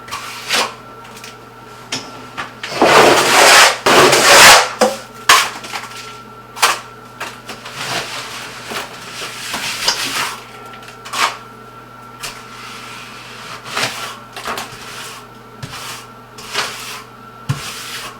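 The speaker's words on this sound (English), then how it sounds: "What I'm doing right now is converting the mud into the wire. I'm keying it in so it sticks." A trowel scrapes and slaps mortar mud into wire lath while floating a tub surround, giving close, irregular rasping strokes with a loud burst of scraping early on and quieter taps and scrapes afterward.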